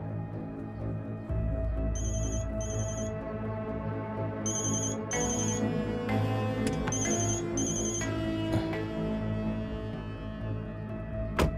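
A telephone rings in repeated bursts of bright electronic trilling over a dense movie soundtrack with music and a low rumble, the rings starting and stopping several times.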